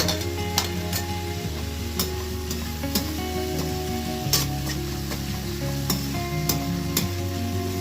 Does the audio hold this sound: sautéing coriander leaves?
yes